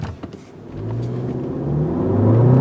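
A 2020 Volkswagen Atlas with a 235-horsepower turbocharged four-cylinder engine pulls away under acceleration, a steady rising engine drone that builds in loudness over a few seconds, heard from inside the car with no talk.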